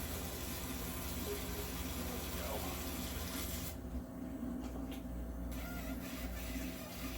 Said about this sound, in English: Rinse this off a little bit.